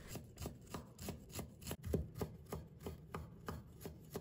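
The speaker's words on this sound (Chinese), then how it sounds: "最后切成姜末" A kitchen knife rapidly minces peeled ginger on a cutting board, giving a steady run of quick, evenly spaced chopping taps, close and fairly quiet, with no talking.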